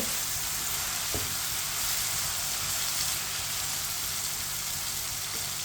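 Food frying in a pan over medium heat while being stirred with a spoon, a dense continuous sizzle with faint scraping and a couple of light clicks, alone and close.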